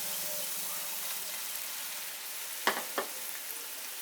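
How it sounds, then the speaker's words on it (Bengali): Soya chunks sauté in a spiced masala in a pan, a steady close sizzle broken by two sharp stirring scrapes. "সোয়াবিনটা দিয়ে মশলার সাথে একটু ভালো করে 2 থেকে 3 মিনিট একটু কষিয়ে নিচ্ছি আমি।"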